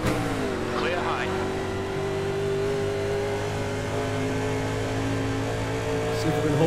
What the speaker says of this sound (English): Listen to the gearbox, jeez.